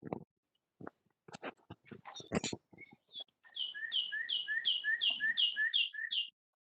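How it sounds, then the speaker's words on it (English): A bird chirping somewhere on an open microphone during a city council work session, a run of about ten quick, evenly spaced bright two-note chirps following a few scattered sharper calls, clear and fairly close. "Is anyone else hearing a bird?"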